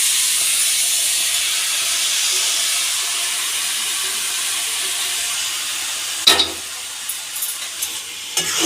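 A coconut and jaggery mixture cooks in a wok on a gas flame, giving a steady, fairly loud sizzling hiss that runs throughout, with a few clattering stirring knocks toward the end.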